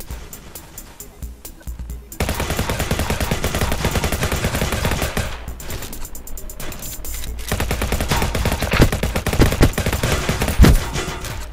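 Dense, sustained automatic gunfire in a video game, loud rapid bursts that pause briefly and resume, with voices partly audible beneath.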